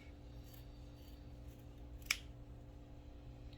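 Scissors snipping the top off a small fuzzy bootie, a single sharp close cut standing alone against a quiet hum.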